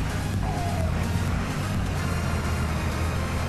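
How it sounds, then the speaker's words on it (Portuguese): Scania 112H truck engine in Grand Truck Simulator 2 drones at low revs, a steady deep rumbling roar that continues without a break. "Você manter o giro mais baixo, aí fica um ronco bonito de escutar"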